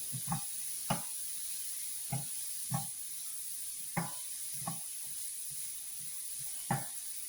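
Vegetables sautéing with turmeric and salt in a pan for Indian Railway-style cutlets, a soft steady sizzle broken by intermittent scraping stirs, close and alone.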